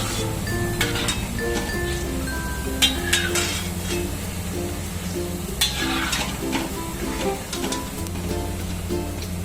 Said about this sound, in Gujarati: પહેલા બધી બુંદી તળી લઈશું.